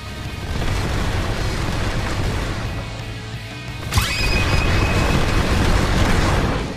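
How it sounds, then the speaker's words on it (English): Tiger fiery shockwave attack from the Blox Fruits video game: a dense, continuous barrage roar that swells to a sharp blast near the middle, followed by a sustained rumbling burst to the end. "Dash in with the crazy barrage and it ends with the fiery shockwave."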